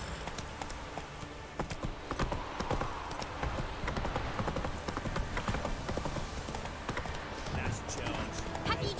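Hooves clip-clop in a steady rhythm as a horse gallops in The Witcher 3: Wild Hunt, sounding continuous and close under game ambience, with speech heard over it.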